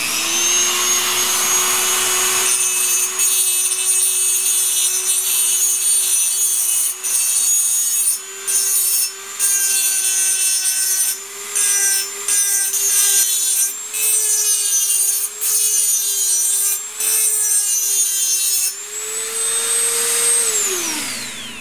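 A high-pitched grinding tool bevels the metal edge of a 1973 Honda CB750 cylinder to remove burrs, a loud close whine with a steady tone broken by repeated brief pauses as the tool lifts and touches down, no talk.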